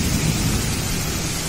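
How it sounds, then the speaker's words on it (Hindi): Heavy monsoon rain pours down without pause, a dense, loud roar of water with a deep rumble of thunder running underneath throughout. "बारिश तो रुकने का नाम ही नहीं ले रही है"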